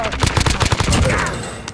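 Rapid gunfire from the video game Modern Warfare, a burst of about a dozen quick automatic shots in a tight rhythm, loud and close, then a fading tail.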